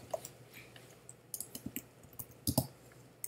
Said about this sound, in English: To do this, we're going to type in sudo